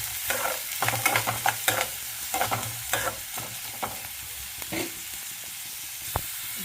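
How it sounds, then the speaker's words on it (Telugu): Finely chopped onions frying in hot oil in a pan, a steady close sizzle broken by repeated scraping and stirring strokes of a spoon, with no talking. "ఆనియన్స్ ఫ్రై అవ్వాలి."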